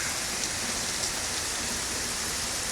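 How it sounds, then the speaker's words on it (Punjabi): Heavy rain falls on a farm in a steady, dense hiss, loud and unbroken throughout with no other sounds. "ਹੁਣ ਜ਼ਿਆਦਾ ਤੇਜ਼ ਪਈ ਜਾਂਦਾ ਮੀਂਹ ਆ"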